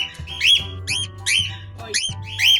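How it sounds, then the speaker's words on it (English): Cockatiels give their flock call, a series of shrill, rising whistled squawks repeated about four or five times in quick succession, loud and near, with a faint low hum underneath. "I'm talking about flock calls."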